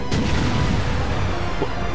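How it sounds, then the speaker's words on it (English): Explosions in the visual novel Deus Machina Demonbane, set in Arkham City, come as a loud booming crash followed by rumbling, sustained low blasts. "Explosions detonate throughout Arkham City."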